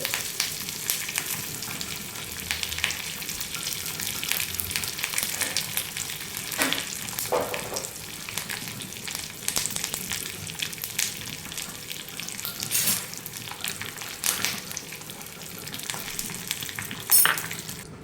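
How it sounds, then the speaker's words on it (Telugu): Mustard seeds, cumin, fenugreek, dried red chillies and curry leaves sizzle in hot oil for a chicken buttermilk curry, a steady crackling fry with occasional stirring scrapes and a few sharper pops, close and continuous throughout. "తర్వాత మనం ఎండుమిరపకాయలని, కరివేపాకుని కూడా వేసుకొని ఫ్రై చేసుకోవాలి."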